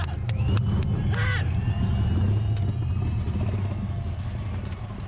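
A GM Motorsport LS engine roars continuously in a burnout car at a burnout finals event, a loud low rumble with crowd-like noise and brief sharper bursts, a commentator's voice partly over it.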